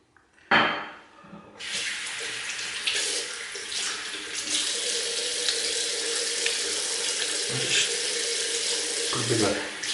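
A tap runs in a steady, full rush after a sharp clunk as it is turned on, continuing close and loud for several seconds with a few brief low splashes near the end.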